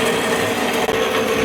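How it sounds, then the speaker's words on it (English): A bandsaw steadily cutting through a metal tube for Jeep Gladiator rock sliders: a loud, continuous, dense grinding whine that holds steady and close throughout. "now I'm just letting my bandsaw cut it"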